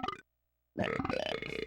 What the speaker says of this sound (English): Oh yeah, you can burp too. And you can adjust the pitch.